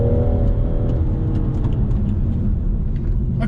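A BMW M240i being driven hard, its engine a steady loud rumble and whir throughout with a brief rising note early on, heard from inside the car with no talking.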